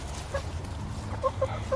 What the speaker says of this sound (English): Chickens are so funny the way they like to lay in one nest box.